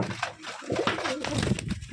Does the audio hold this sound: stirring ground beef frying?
no